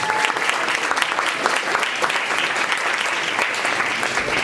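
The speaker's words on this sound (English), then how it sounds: "Round of applause for" Dense, steady applause from a crowd at a Vets Club storytelling event, a continuous wash of many hands clapping at full strength throughout, with no gaps or talk over it.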